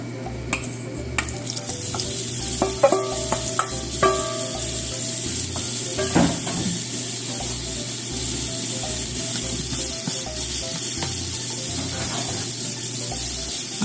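Carrots stir-frying in olive oil in a pan, a steady loud sizzle with scraping and stirring clatter, running alone without talk.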